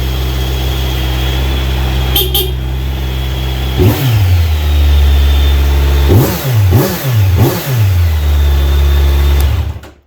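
Close-up and loud, a stock 2020 Kawasaki Z900 motorcycle idles, gives one sharp rev, settles, then snaps through three quick throttle blips before cutting off, with no voices over it.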